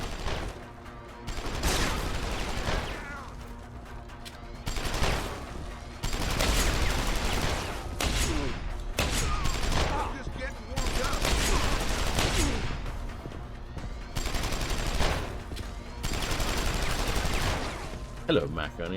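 Bursts of rapid gunfire from an armed man in Deus Ex: Human Revolution come in repeated loud volleys a couple of seconds long, separated by short pauses, with a game soundscape underneath.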